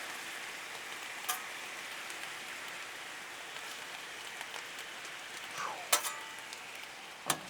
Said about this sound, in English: just spread this steak out and just let it cook